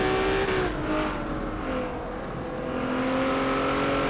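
A race car powers out of a left-hand corner and downhill in the ETR Rising Sun Series, engine droning loud and close with steady rising revs, a brief dip midway, then climbing again.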